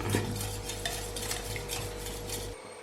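A spoon mashes thick yogurt in a bowl with no water added, soft repeated scraping and squishing strokes close by, with no talking.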